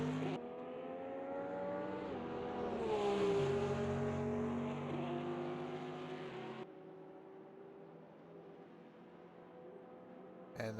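A Porsche race car screams at high revs down the long Conrod Straight at Bathurst during a 12-hour endurance race, its steady engine note climbing through gears, loud and close before dropping to a quieter drone.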